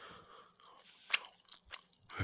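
Someone chews a mouthful of pork cutlet and rice close up, quiet crunching and moist bites coming in a few uneven bursts, faint and alone.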